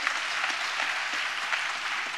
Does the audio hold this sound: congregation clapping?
yes